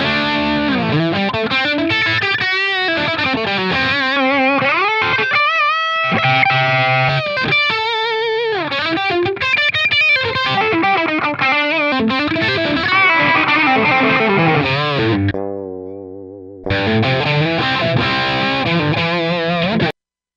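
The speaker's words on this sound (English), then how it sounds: "let's take a listen to what the Placator Helix version sounds like." Electric guitar reamped through a Line 6 Helix Placater amp model plays a loud distorted riff with sustained chords and bends, briefly fading into a gap before crashing back in, with no voices.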